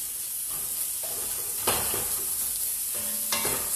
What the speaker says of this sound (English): you can already hear a little bit of that sizzle.